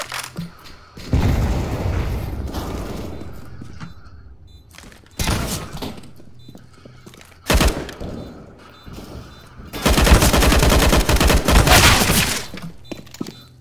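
A grenade blast and gunfire in Counter-Strike: Global Offensive on the Nuke map, with several loud close bursts of shots and booming impacts separated by short quieter gaps.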